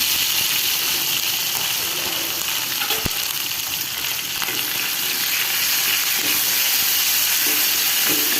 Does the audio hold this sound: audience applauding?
no